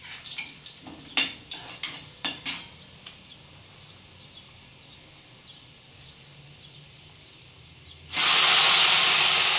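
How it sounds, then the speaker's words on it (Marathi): Cowpea pods stirred in a pan of frying garlic, a few sharp clinks of the spoon at first, then a quiet pause before a loud, sustained hiss of sizzling as the pods hit the hot oil. "बघा, आता लसूण लाल झालेला आहे. आपण ही शेंग टाकून घेऊया."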